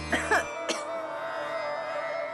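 A 100-year-old woman coughing in a French-dubbed TV drama: three quick, harsh coughs close up, then a steady background music bed.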